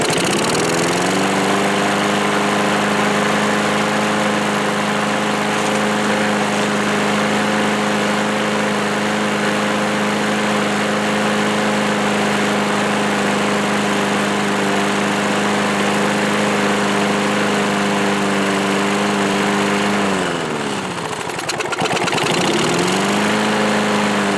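A 1986 Murray lawn mower's small engine runs steadily on full choke after a shot of starting fluid in the carburetor, a loud continuous droning hum near the microphone that briefly dips and recovers toward the end, with no talking.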